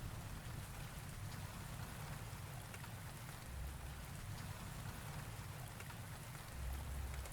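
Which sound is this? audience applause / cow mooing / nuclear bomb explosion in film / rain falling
rain falling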